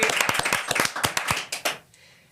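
A short burst of clapping from a small group at a junior athletics medal event, brisk and steady, then fading out near the end.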